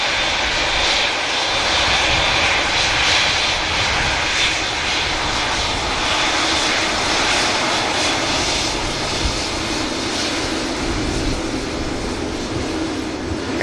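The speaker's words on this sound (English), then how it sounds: "Etihad straight out, making the Qatar way" An Etihad airliner, a 787-9 Dreamliner, takes off at an airport. Its engines give a loud, sustained roar with broad rushing noise that holds steady throughout, heard from a nearby spotting position.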